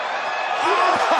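Hometown wrestling arena crowd roaring in a steady broadband wash during a WWE Raw tag-team match, loud and continuous, with an announcer's voice faintly under the noise.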